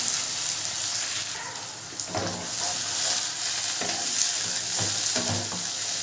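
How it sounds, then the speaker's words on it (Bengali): Spinach and green chillies frying in a pan while being stirred, a loud close hiss of sizzling with occasional scraping strokes of the spoon, continuous throughout. "পালং শাকটা দিয়ে আমার নাড়তে শুরু করে দেবো"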